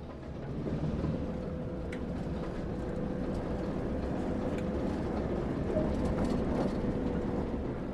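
A heavy diesel engine rumbles steadily with low mechanical drone and faint creaks as a video-game British Rail diesel train slowly pulls away, continuous and close.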